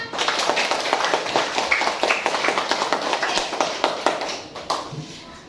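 Elementary school class of children clapping their hands in a classroom, a steady, dense patter of many small claps, moderately loud throughout, tapering off near the end.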